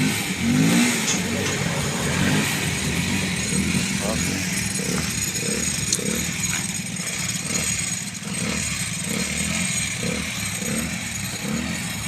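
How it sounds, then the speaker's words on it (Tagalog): A motorcycle engine drones and revs steadily up close, with people talking over it throughout. "Malakas talaga itong motor na to."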